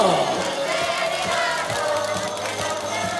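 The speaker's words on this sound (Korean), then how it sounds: "다시 한번 우리 전준호 선수에게 축하의 박수를 부탁드리겠습니다." Stadium crowd at a Lotte Giants baseball game against Hanwha at Sajik, cheering and applauding a player after the win, a dense roar of voices and clapping that swells and stays loud throughout.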